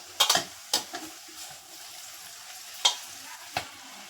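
Onions sautéed in a pan with tomato being added while making chicken gravy, a soft steady sizzle broken by several sharp scraping stirs of a spoon against the pan.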